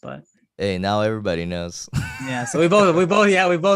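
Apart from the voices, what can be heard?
No everyday noises stand out.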